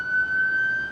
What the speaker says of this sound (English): yeah, so that's the ambulance